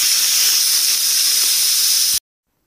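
A loud, steady high-pitched hiss of escaping steam from a pressure cooker whistle, boiling chickpeas in salted water, runs for about two seconds, then cuts off abruptly into silence.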